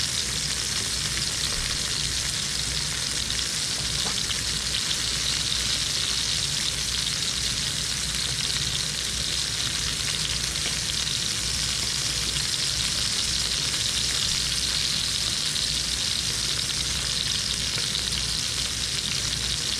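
Peppers, mushrooms, broccoli, shallots and garlic frying in a hot pan for chicken lo mein, a loud, even, continuous sizzle with faint stirring, steady for the full stretch with no talking.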